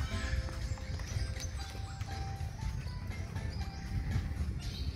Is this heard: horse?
yes